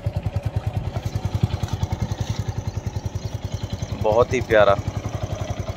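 A ten-year-old Yamaha R15 2.0 motorcycle idles with a steady, even low thump, close and moderately loud, while someone briefly speaks over it near the end.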